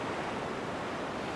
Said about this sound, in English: The rolling of waves are alluring, even hypnotic.